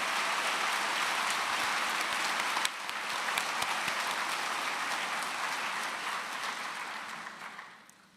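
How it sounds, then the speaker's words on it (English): Audience applause for faculty and staff at a university commencement ceremony, a dense, steady wash of many hands clapping that holds strong before fading out near the end. "Please, let's give our faculty and staff a round of applause."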